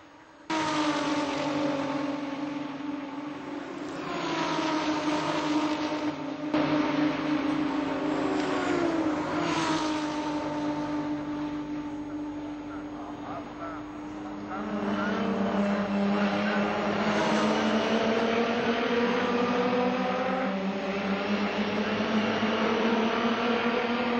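Nissan 350Z race cars roar around the Mugello circuit in a 2008 one-make challenge, engines loud and sustained with rising and falling pitch as cars pass through the track, continuous for the whole stretch.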